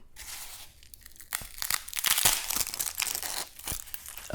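Crunchy flatbread is torn apart up close, giving bursts of crackling and crisp snapping that grow louder and denser after a quieter start.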